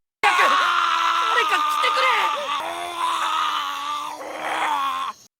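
A dragon crying for help comes out as a loud, close monster roar: long groaning, wailing growls with rising and falling pitch, sustained for about five seconds and then cut off abruptly.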